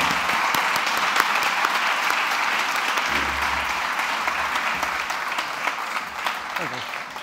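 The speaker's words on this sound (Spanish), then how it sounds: "Us demano un aplaudiment per ell." Audience at a sports congress on social change and sporting habits applauding a speaker after his presentation, a steady dense clapping held at even strength throughout, with a low voice murmuring briefly partway through.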